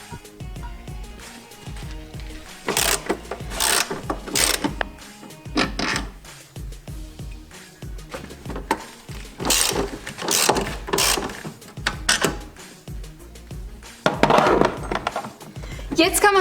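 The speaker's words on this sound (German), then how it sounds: "Und zum Schluss die und die Schraube mit einer 16er Nuss raus." Ratchet wrench with a 16 mm socket loosening a bolt on a VW 1.4 80 hp engine during a timing belt and water pump job, several bursts of fast clicking ratcheting separated by pauses and small metallic handling noises.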